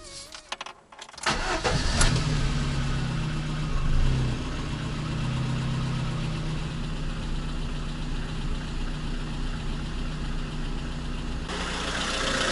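VAZ 2114 engine starting after a spark plug replacement, then settling into a steady idle with a slight irregular stumble, close and continuous with no speech.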